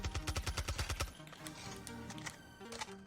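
Rapid gunfire from COD Mobile rattles in a fast, even burst of about a dozen shots, then gives way to scattered softer in-game sounds and a few isolated clicks, fairly quiet overall.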